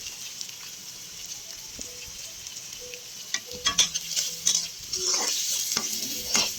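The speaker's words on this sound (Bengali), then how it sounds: "আর হলুদ দিয়ে ভালো করে পেঁয়াজটা ভেজে নিব" Onions fry with turmeric in a pan while being stirred, a steady soft sizzle joined in the second half by clustered scraping strokes of a spoon against the pan, close by.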